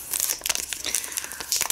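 A plastic tea packet is crinkled and crumpled by hand in quick, irregular rustles and crackles that run throughout, close and fairly loud, with no speech.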